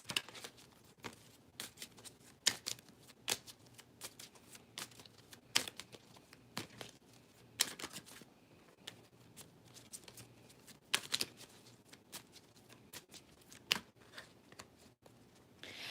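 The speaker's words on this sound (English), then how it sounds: "let me shuffle for you, Phantom, and then pick numbers" Tarot cards being shuffled in repeated bursts of riffling and snapping, fairly close and quiet, with brief pauses between shuffles and no talking.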